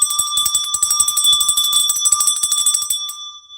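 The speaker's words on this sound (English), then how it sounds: "I take a bell and I shake over the area" A handheld brass bell shaken over a space to clear it gives a rapid, close, bright jingle of repeated strikes with sustained ringing tones, then stops and rings out briefly.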